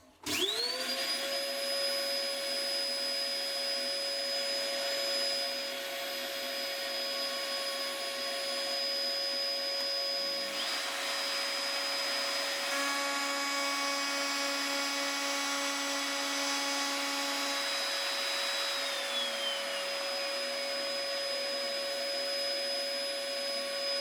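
A wood router cutting a backboard on a router fence, with a vacuum dust extractor drawing air alongside: a loud, steady high whine and roar that holds close and continuous throughout, with a slight shift in tone midway and no talking.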